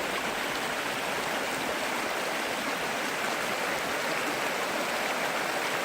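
A babbling brook in Colorado flows steadily nearby, a dense, even rush of water with no pauses and no voices.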